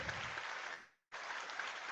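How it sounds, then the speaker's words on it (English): Students at a school assembly applaud the applicants, a broad, fairly loud wash of clapping that cuts out abruptly for a moment and then resumes at full strength. "I want to first hear a round of applause for all the applicants"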